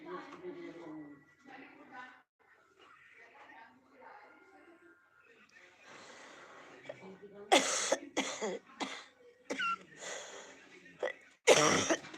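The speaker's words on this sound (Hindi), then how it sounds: "लेटने पर खांसी आने लगती" Quiet talking at first, then several harsh, loud coughs in bursts, close by, with a final forceful cough near the end.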